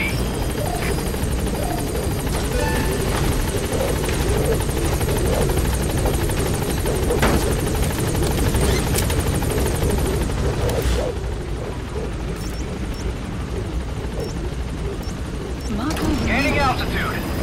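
A helicopter in Metal Gear Solid V thunders in toward the landing zone, its heavy rotor drone loud and constant throughout, with a radio voice talking over it and brief clanks near the end.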